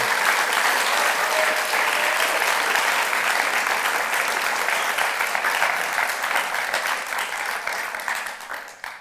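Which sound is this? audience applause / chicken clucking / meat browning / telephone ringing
audience applause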